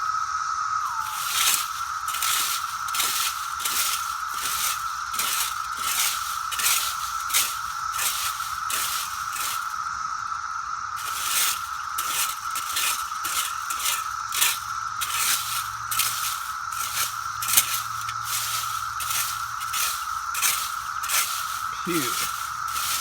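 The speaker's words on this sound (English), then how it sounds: "Yeah, I'm literally raking them." Raking through a deep pile of dead, rotting cicadas outdoors, with steady rhythmic scraping strokes close by, while a loud chorus of live cicadas drones continuously in the background.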